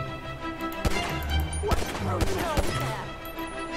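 Gunfire in GTA V during a zombie mode sounds as several sharp, punchy shots and impacts at irregular intervals over a background of game noise, with voices faintly present.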